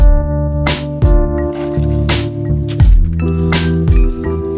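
Expanding foam is sprayed into holes in a paludarium, heard as a series of close, loud hissing bursts and squishy spurts separated by brief pauses, over a low tonal background hum.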